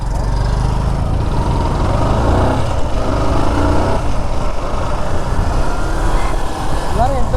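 A motorbike sets off at the start of a ride from Madurai to Kodaikanal. A steady, loud engine rumble drones close to the microphone without a break.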